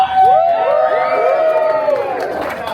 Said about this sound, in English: We would like you to cheer every time.